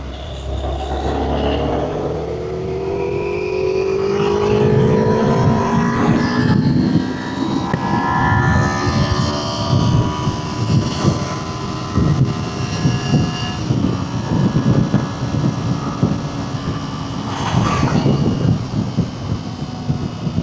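A Kawasaki Z2 motorcycle is ridden faster, its engine revving up through rising and falling pitch sweeps with a loud, continuous close roar and wind rush.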